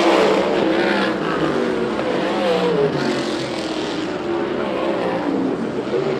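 Senior sprint cars race around Perris Auto Speedway, a dirt oval, their engines blending into a continuous, wavering roar as the pack circles at a distance.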